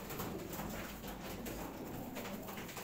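Pigeons coo softly under a steady background wash, with soft low calls repeating through the short stretch and no talk over them.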